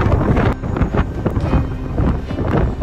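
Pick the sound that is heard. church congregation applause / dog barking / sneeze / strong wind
strong wind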